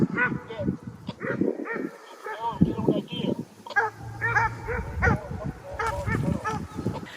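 Hunting dogs bay and bark on a deer's trail in the woods, overlapping yelps and howls at moderate distance, with a voice talking in between.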